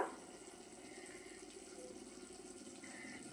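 Water poured into gram flour batter in a home kitchen, a soft, steady trickle that runs on for a few seconds, quiet and close with no voices.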